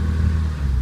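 A Porsche 924S engine with 131,000 miles, idling at about 900 rpm, gets a little throttle: a steady, close, low engine hum with a smooth, slight rise, under a second long.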